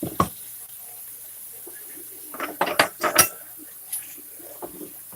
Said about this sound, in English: I left the dishes in the kitchen sink build up a little bit longer than I should have.